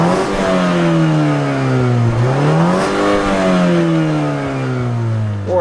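Toyota Camry TRD with naturally aspirated V6 and a turbocharged Mazda6 accelerating hard in a drag race, loud continuous engine roar rising in pitch through gear shifts, near and steady with no talking.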